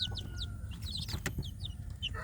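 Free-range village chicks chirp in short repeated high peeps over a steady low background rumble, with occasional clucks from nearby fowl.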